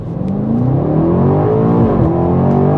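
A BMW X5M F95 Competition with 600 hp launches hard from a standstill, its engine roaring loud and close as the pitch climbs steadily, dropping briefly at a gear change before rising again.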